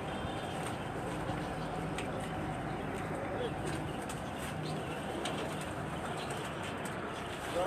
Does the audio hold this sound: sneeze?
no